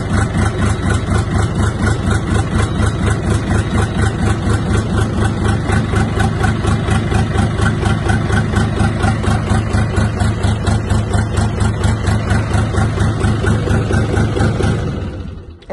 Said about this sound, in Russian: Вот такая работа двигателя.